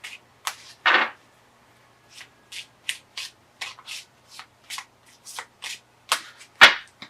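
Tarot cards shuffled by hand, a series of crisp, brief riffling bursts separated by short pauses, close and clear against near silence, no speech.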